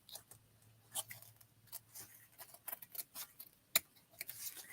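Hand scissors snip through fabric in a string of quiet, crisp cuts at an uneven pace, close by with no talking.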